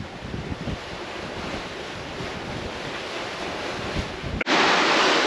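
Wind rushes and sea waves wash steadily around a reefed sailboat under way in open water, a loud continuous roar that jumps into a harsher gust of wind buffeting the microphone near the end.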